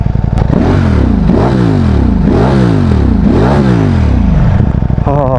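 A Ducati Streetfighter V4 motorcycle with its stock exhaust, revving close by in four sharp, loud throttle blips that each rise and fall back, with a rough, steady idle between them.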